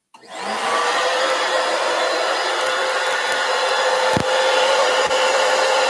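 A vacuum pump roars loudly and steadily from start to finish after starting up abruptly, with a couple of faint knocks under the constant whooshing hum.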